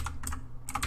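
Quick taps on a computer keyboard sound close and fairly quiet, arriving as a few short clicks in under a second.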